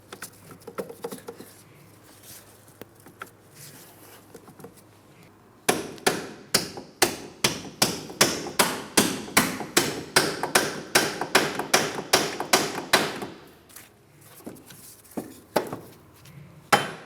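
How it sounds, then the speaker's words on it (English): A hammer taps splined bolts into a Pontiac Grand Prix steering knuckle, starting with soft scattered taps, then a long run of loud, steady metallic blows that fade back to a few faint knocks. "what I'm attempting to do is tap the splined area of each one of the bolts into the steering knuckle"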